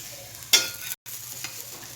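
A bread sandwich is pressed down on a hot pan, giving a soft sizzle with a sharp burst as it is pushed, a brief silent gap, then a quieter hiss.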